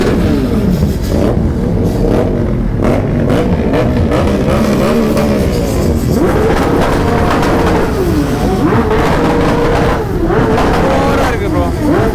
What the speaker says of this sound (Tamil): பின்னாடி வண்டி வருது.